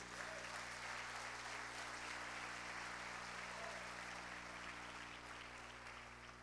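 Church congregation applauding during a Portuguese-language sermon, a sustained, fairly faint wash of clapping over a steady low electrical hum, tapering slightly toward the end.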